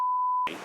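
A single steady high-pitched censor bleep lasting about half a second, cutting off abruptly into faint background noise.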